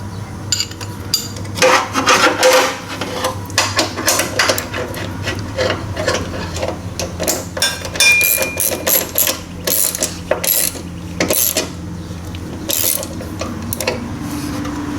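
Metal tools clank and ratchet while tightening a lock nut on a 1978 Indian moped, with irregular close clicks, scrapes and taps running steadily through the stretch.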